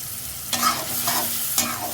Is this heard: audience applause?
no